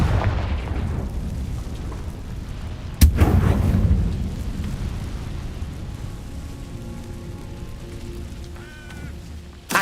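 A fire-blast spell cast in the Hogwarts Legacy video game bursts out as a sharp boom, then a rumbling roar that fades over several seconds, with faint game tones and a second hit near the end.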